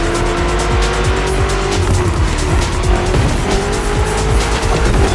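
A BMW M CS in the racing game The Crew Motorfest drives hard, its engine a loud, steady roar with repeated tire squeals and skids throughout.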